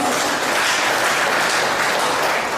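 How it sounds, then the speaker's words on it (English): A crowd at a Ghanaian community gathering in Tripoli, Libya, gives a round of applause, a thick, continuous wash of clapping at steady volume for the brief stretch, with no voices standing out. "The Ghanaian community, Tripoli Chapter, a round of applause"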